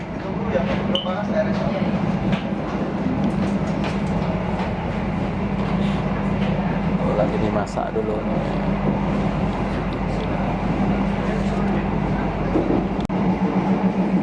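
Inside the Argo Lawu passenger train running from Solo to Jakarta, a steady low rumble and hum of the carriage fills the cabin with faint clinks, while a person talks briefly over the constant ride noise.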